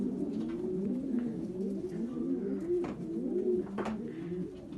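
Paired breeding pigeons in a loft give a continuous chorus of low, rolling coos close by, with a couple of soft clicks and no talk.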